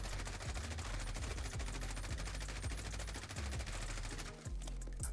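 M4 assault rifle in the Warzone video game firing full-auto in one long, loud, continuous burst of rapid shots with no talk, stopping briefly near the end before a final few rounds.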